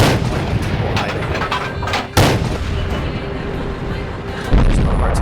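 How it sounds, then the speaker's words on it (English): Tank cannon fire in a World War II tank video game, a loud boom and a second sharper blast a couple of seconds apart over constant battlefield rumble. "Yeah, I'm just putting shots up there, hoping to hit something."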